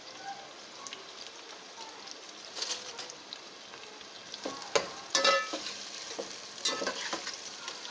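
Onions for chicken korma fry in a pan, a soft continuous sizzle broken by sharp scrapes and clacks of stirring, near and fairly quiet.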